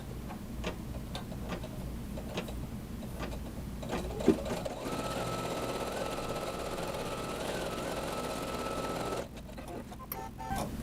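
An embroidery machine sews an applique position stitch outlining a moon shape, a steady mechanical rattle with regular ticking needle strokes that runs nearly the whole clip before stopping near the end.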